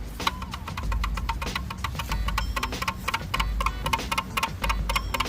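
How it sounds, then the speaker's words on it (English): An Apollo Pro electric scooter, one week old, gives repeated sharp creaks and ticks, close and fairly loud, recurring in an uneven rhythm over a low rumbling hum. "that's a lot of creaking within the first week of having the scooter"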